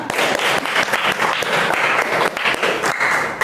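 A classroom group claps enthusiastically, a dense burst of applause that stays steady and fairly close for a few seconds.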